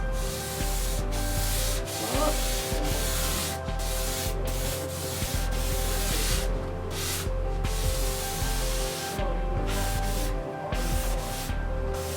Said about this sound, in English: I am staining it in Minwax Espresso. Nice long strokes.